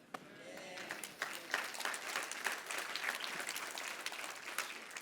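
Audience applause at a French-language church sermon, steady dense clapping from a crowd lasting throughout, fairly even in loudness with a few sharper claps standing out.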